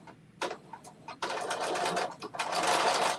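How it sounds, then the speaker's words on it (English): A sewing machine top-stitches bias tape down on an off-the-shoulder dress: short stuttering bursts of rapid stitching, then longer steady runs, loud and close with no talk. "this top stitch down to stitch my bias tape down"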